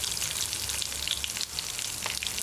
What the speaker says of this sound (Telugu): సో ఇవి కాస్త చిటపటలు ఆడుతున్నప్పుడు